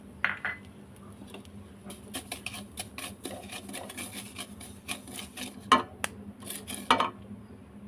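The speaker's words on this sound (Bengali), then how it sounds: "তারপর কড়াইতে আমি একটু ঘি দিয়ে দেবো। দিয়ে এখানে একটু সুজিটাকে একটু ভেজে নেব।" Semolina frying in ghee in a kadai, a ladle scraping and knocking against the pan in irregular soft strokes with occasional louder clinks, quiet and close.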